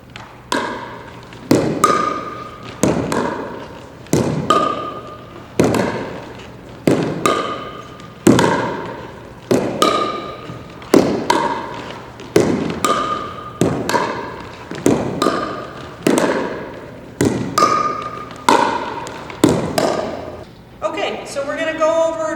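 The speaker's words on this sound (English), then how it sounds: "you're going to hit the ball back and forth, working on your accuracy of your shots and the consistency of your shots" Pickleball paddles striking a ball back and forth in a warm-up rally on an outdoor park court, a steady series of sharp hollow pocks roughly a second apart, close and clear, with faint background murmur.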